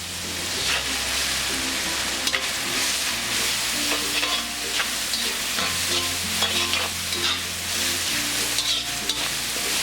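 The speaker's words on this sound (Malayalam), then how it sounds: "ചതച്ച് വെച്ചിരിക്കുന്ന ഇഞ്ചിയും വെളുത്തുള്ളിയും ചേർത്ത് വഴറ്റി കൊടുക്കാം" Crushed ginger, garlic and dried red chillies sauté in hot oil for Chettinad chicken. A loud, steady sizzle runs throughout, broken by frequent scraping stirs and clinks of a spoon against the pan, with no talking.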